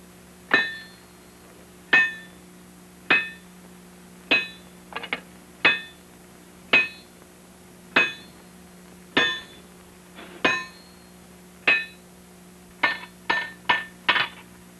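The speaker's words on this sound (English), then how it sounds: "Here he will heat and hammer a bar of solid wrought iron into a flat scalp" A bar of hot solid wrought iron hammered at a forge, steady ringing metallic strikes about once a second, some quick double blows, close and clear.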